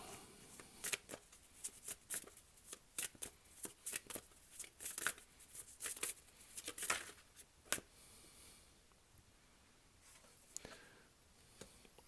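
Soft, close riffling and snapping of tarot cards being shuffled in repeated quick bursts, then a quieter pause.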